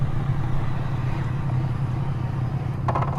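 A 2018 Ducati Panigale 959 Corse sport motorcycle pulling away, a steady low engine rumble close by with a brief burst of rattly noise near the end.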